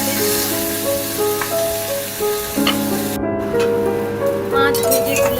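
Fish pieces fry in hot mustard oil in a wok with a steady, loud sizzle throughout, broken by occasional light clinks and spatters.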